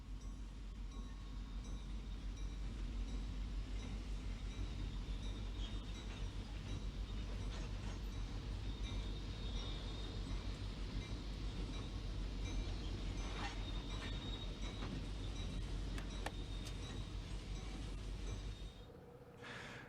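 A Conrail unit coal train bound for Bethlehem Steel's Burns Harbor mill on a short line near Chicago rumbles past, a continuous low roar with faint rail clatter and squeal, easing off at the end.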